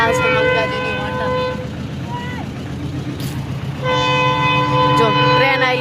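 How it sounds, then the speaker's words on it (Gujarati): A train rolls through a closed railway crossing amid busy road traffic, with steady rumbling, a horn-like tone and nearby vehicle noise, while people talk over it. "જો ટ્રેન આવી."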